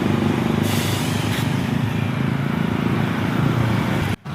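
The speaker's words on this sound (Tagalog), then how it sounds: "Abot ng dump truck." A dump truck arriving at a box culvert construction site, its heavy diesel engine rumbling loud and close with a continuous low drone, cut briefly near the end.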